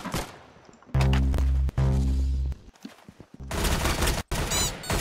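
An M16 fires in the Roblox game Arsenal, with loud rapid bursts of automatic gunfire broken by short gaps and mixed with other game effects, with no voices over it.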